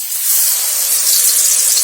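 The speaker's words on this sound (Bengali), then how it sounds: "এখন আমি বেগুনি ভেজে নিচ্ছি।" Eggplant fritters (beguni) dipped in batter deep-frying in hot white oil in a kadai, giving a steady loud hiss and spray that runs evenly throughout.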